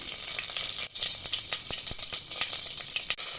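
Mustard seeds and spices, cinnamon and cardamom among them, sizzle and pop steadily in hot oil for sambar rice, with a continuous close crackle and sharp spitting bursts throughout and no voices.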